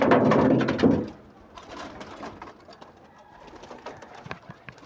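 Pigeons in a loft coo and rustle close by, a loud burst at first settling into softer, overlapping cooing and fluttering sounds.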